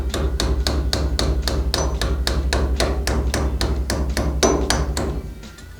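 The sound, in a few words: hammering metal locking plate tabs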